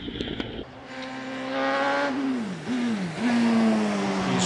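A Force TA race car accelerates hard at the Prescott championship hill climb, its engine note rising and falling through gear changes as it climbs, loud and close throughout with no talk.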